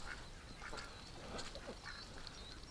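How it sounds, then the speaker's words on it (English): Outdoor duck calls in a wintry field near standing corn, a few short nasal quacks spread through the clip over a steady background hiss, fairly distant and moderate in level with no talking. "Look at this dirty little duck."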